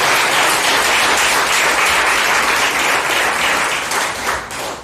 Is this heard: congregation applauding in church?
yes